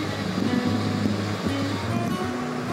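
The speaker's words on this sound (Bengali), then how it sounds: "ছাঁকনির সাহায্যে ছেঁকে নিচ্ছে, জল আর ছানাটাকে আলাদা করে নিচ্ছে।" Water drains from freshly made chhena (cottage cheese) through a strainer, a steady close rushing trickle with a faint underlying hum.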